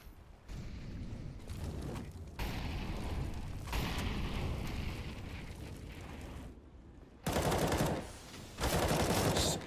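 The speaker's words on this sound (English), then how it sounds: "Shots being found by Wadey here as well" Dense, loud bursts of rapid gunfire from Counter-Strike: Global Offensive in a competitive match, sustained volleys with brief gaps and no talk over them.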